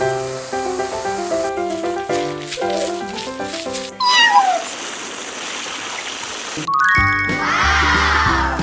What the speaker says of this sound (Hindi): चुपचाप रहो मेरी बिल्ली